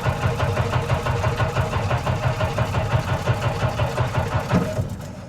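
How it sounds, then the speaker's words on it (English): A 1966 Jeep CJ5 with its choke pulled and a weak battery runs up close, its engine chugging in a steady rhythmic idle that eases off slightly at the end. "So let's fire it up and let's see if it'll fire up right now"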